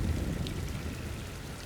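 Steady rain falls in a soft, even hiss with a low rumbling undertone, close and continuous through the short stretch with no voices.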